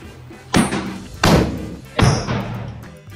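Firecrackers bursting on a plastic bottle filled with flammable gas: three loud, close thuds about two thirds of a second apart, each a sharp blast with a short decaying rumble.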